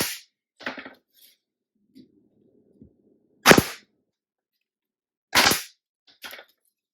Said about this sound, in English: now we're ready to staple